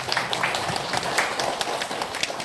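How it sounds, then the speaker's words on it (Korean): A church congregation at a Sunday worship service applauds with brisk, dense clapping, many hands at once, fairly close and steady throughout with no speech over it. "하나님께 영광의 박수를 한번 올려드리겠습니다"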